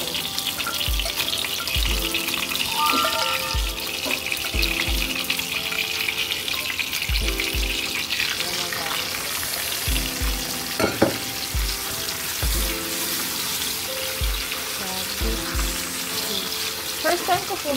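Beef steak meat frying in a pan at home, giving a steady close sizzle broken by occasional stirring clatter and low thumps, with no talk over it.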